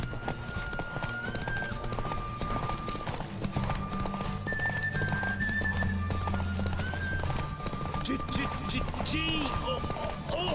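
A horse galloping in The Witcher 3: Wild Hunt video game, with steady rapid hoofbeats running throughout under a musical score, and someone talks over it.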